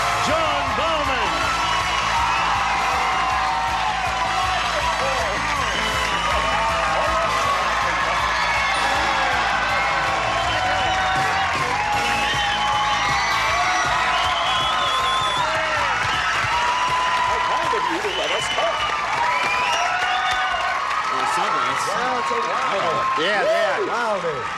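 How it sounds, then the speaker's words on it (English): A 1984 Match Game–Hollywood Squares studio audience keeps up loud, steady applause with cheering and shrill whistles throughout, while a host's voice talks over it. "We love the applause. But please, the whistling is really tough to take"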